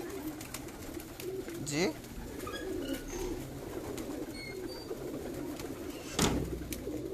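Pigeons on a rooftop give soft cooing calls, faint against a quiet outdoor background, with a brief voice heard partway through.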